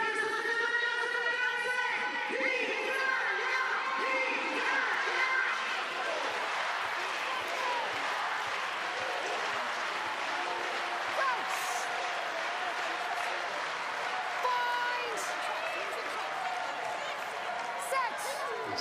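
A large crowd at a women's Six Nations rugby match between Italy and Wales in Palma keeps up a steady roar of cheering and applause throughout, with a commentator talking over it.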